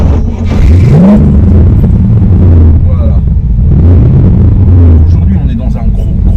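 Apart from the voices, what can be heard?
American car with big 5.7 litre V8 engine driving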